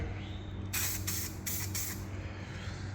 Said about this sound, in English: Give it a little tester spray.